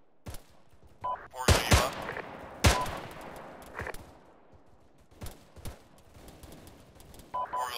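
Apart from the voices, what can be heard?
gunfire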